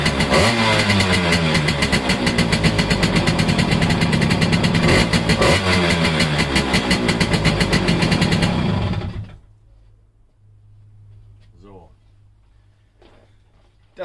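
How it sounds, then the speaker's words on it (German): A Simson S51 moped fitted with a ZT three-plate silencer runs loud and close with a rapid two-stroke rattle for about nine seconds, then cuts off, leaving a faint low hum and someone speaking. "werde ich jetzt einmal die Simme laufen lassen, da könnt ihr einmal hören"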